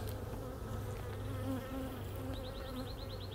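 Honeybees buzzing inside an opened hive that was split weeks earlier, a dense, continuous drone close by with no talking.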